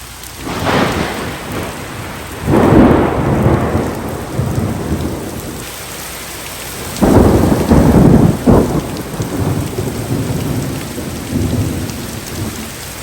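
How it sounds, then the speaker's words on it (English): Heavy rain pours steadily in a wooded park while thunder rumbles and cracks in several loud surges, close and powerful, with no voices. "there's a little bit of lightning, a little bit of thunder"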